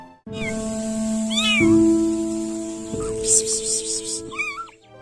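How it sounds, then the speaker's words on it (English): A tiny stray kitten, no more than a month old and found by a roadside, meows repeatedly in high thin cries close by, with other animal sounds and faint voices behind. "found a tiny kitten on the roadside"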